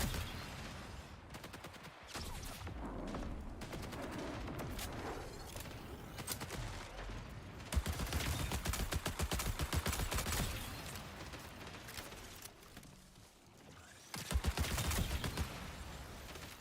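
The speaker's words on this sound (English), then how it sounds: "Heard shots over here." Distant gunfire crackles in the shooter game Marathon: bursts of rapid shots and scattered single cracks rattle through a noisy, busy game soundscape, fairly faint and far off, with a couple of louder flurries closer by.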